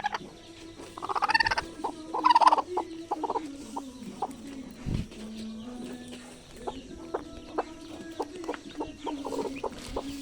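Native hen clucking near her eggs as she begins brooding, a run of low, irregular clucks and soft calls with a few louder bursts early on, with no talking.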